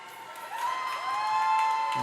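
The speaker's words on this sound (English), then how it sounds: "And cheering from the fans." Fans cheer at the finish of a swimming race, a faint, distant crowd roar with high whistles and shouts echoing in an indoor pool hall that swells slightly toward the end.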